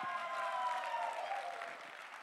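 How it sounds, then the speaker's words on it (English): An audience at a live event in Bangalore applauds itself, a soft, distant clapping wash that gradually fades. "Give yourself a big round of applause."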